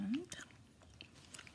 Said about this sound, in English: Here's a bubblegum. I'm chewing today, by the way.